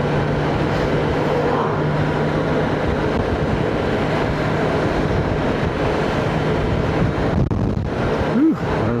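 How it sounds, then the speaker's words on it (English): Strong wind buffets the microphone during a motorcycle ride, a loud, continuous roaring rush with engine hum underneath, surging and gusting throughout, with a brief swooping tone near the end. "there's the wind"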